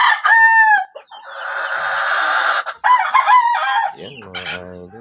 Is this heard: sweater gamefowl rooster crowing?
yes